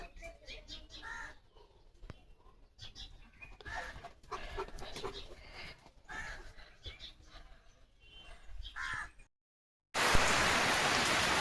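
Chickens cluck and birds call over background noise, then after a brief silence a steady hiss of rain takes over.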